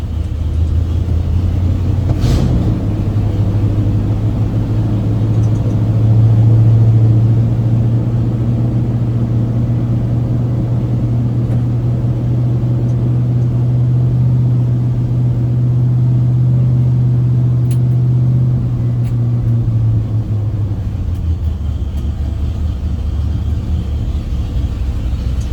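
A GMC Squarebody truck engine restarted and left idling without throttle, a steady, close, low rumble holding even for most of the stretch before dropping in pitch near the end.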